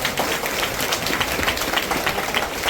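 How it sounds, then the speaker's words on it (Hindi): An audience at a senior trainers' conference claps loudly and continuously to welcome guests, a dense patter of many hands. "और इन लोग के जोरदार तालियों से स्वागत करें।"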